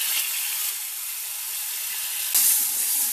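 Spices fry in hot oil with onions, a bright, steady sizzling hiss close by that swells louder toward the end as the pan flares up.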